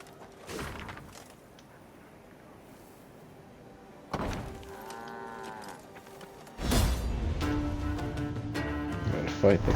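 Cows low in the Thronebreaker video game, deep drawn-out moos rising in two bursts, the second louder and mixed with a heavy thunk and other game sounds, while a voice talks over parts of it.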